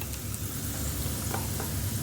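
Cumin and onions sizzle in hot oil in a frying pan for a tadka for pakora curry, a dense, steady crackling hiss heard up close with no voices.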